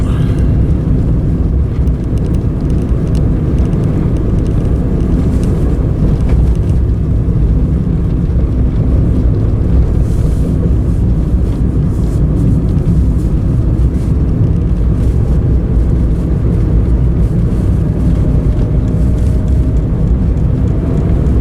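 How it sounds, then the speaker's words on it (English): A tractor hauling a load of logs drives by with a loud, steady low engine rumble lasting throughout, roughened by wind buffeting the microphone. "This tractor's going. It's got a load of logs on."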